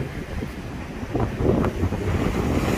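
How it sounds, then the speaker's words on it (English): Gusty wind buffets the microphone in low, uneven rumbles on a coastal fishing spot, strengthening in the second half, with no voices. "very windy."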